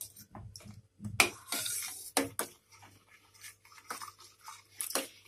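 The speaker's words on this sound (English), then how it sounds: "Keep it stirring." A spoon stirs hot chocolate made with cocoa powder in a pot over a low flame, giving soft irregular scraping and clinking strokes near and quiet, with a faint low hum beneath.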